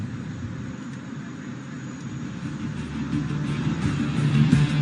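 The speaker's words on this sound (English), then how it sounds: "watch as he inverts his aircraft and pulls through for a split S, turning her around in no time" A HAL Tejas fighter jet flies a split S at the Dubai Air Show, its engine a steady, broad roar heard from a distance that swells gradually louder toward the end.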